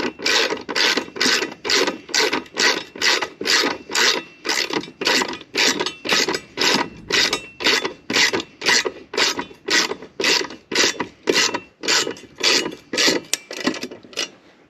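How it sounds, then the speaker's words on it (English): A ratchet with a 1/2-inch socket tightening TAC bar bolts on a Ford F150 truck, steady rhythmic back-and-forth clicking strokes repeated many times, close and loud with no talk. "Then I got a 1/2-inch socket on my ratchet here,"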